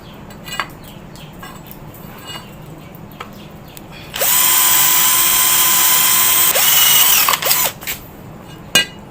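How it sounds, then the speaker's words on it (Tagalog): A cordless drill with a blunt bit bores holes, a quiet stretch with small knocks giving way to a loud, steady high whine for about two seconds, then stopping with a brief clatter and a final tap. "Medyo pagpasensya nyo na kung medyo mabagal lang tayong mag-drill kasi yung drill bit natin medyo mapurol lang"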